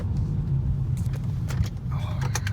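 A car is driven with its power steering out and the check engine light on, giving a steady low engine and road rumble with faint clicks and rattles from inside the cabin.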